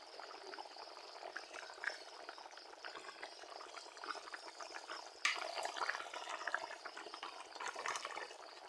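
Fish and egg curry boils in a pot with a steady bubbling, gurgling hiss throughout, close and fairly loud, with a brief louder surge of bubbling partway through.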